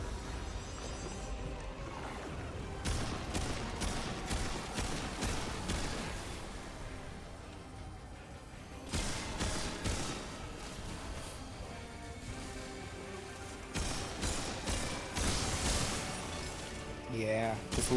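Gunfire in a video game, shooting at a pulsing red orb, comes as dense bursts of shots and blasts over a loud, busy game soundtrack, with a player talking throughout.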